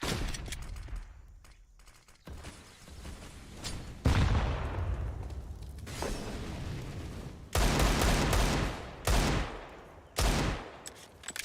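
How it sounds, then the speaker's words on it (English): Desert Eagle pistol shots ring out in Counter-Strike: Global Offensive during a pro match, several sharp loud bursts spaced irregularly among quieter in-game ambience and other gunfire. "Enters a couple of shots on the Deagle"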